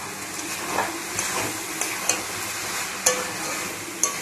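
Spices go into a spinach and fish-head curry as a spoon stirs, giving a soft continuous sizzle punctuated by several sharp clinks of metal against the pot.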